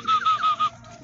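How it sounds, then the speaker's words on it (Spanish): Ranch chickens on a rural property give a short series of four quick, fairly loud squawking clucks close by, then fall quiet. "Y acá las gallinas de rancho"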